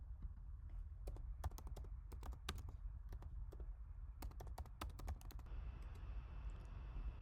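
Rapid typing on a computer keyboard, close and crisp, with bursts of clicking keystrokes and short pauses between runs, no voices.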